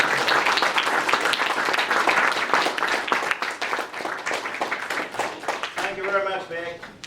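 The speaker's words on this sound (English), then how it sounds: "a crowd of very, very grateful people who will now give you a very big hand" A large audience gives a long, loud round of applause, dense steady clapping that fades slightly toward the end, with some talk mixed in.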